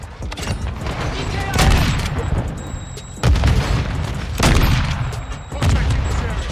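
Loud grenade blasts and rolling gunfire in a shooter video game, several heavy booms spaced a second or so apart over continuous combat noise, with scattered voice lines from the game.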